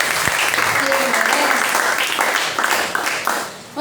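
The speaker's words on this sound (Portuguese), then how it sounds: "Vamos aplaudir ao Senhor mais uma vez." A church congregation applauds at a deliverance service, dense sustained clapping filling the room for several seconds with some voices mixed in, tapering slightly at the end.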